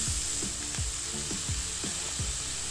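Chopped microgreens stir-fried in a pan with chilli and turmeric for a thoran, a constant close sizzle with a steady rhythm of spatula scrapes and taps against the pan.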